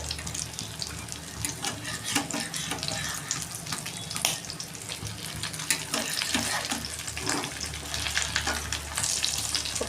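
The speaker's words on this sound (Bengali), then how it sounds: "এগুলো ভালো করে ভেজে নেব। দেখো এটাও ভাজা হচ্ছে।" Fish roe fritters (macher deem bora) fry in hot oil with a steady, dense sizzle and crackle that runs without a break, close and fairly loud, with faint clinks now and then and no talk.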